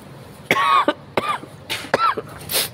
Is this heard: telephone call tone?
no